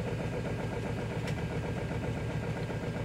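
A diesel engine runs at a fast, steady high idle right after an ether-assisted cold start at -6 degrees Fahrenheit with one working glow plug, a close, continuous rumbling drone with one brief sharp tick.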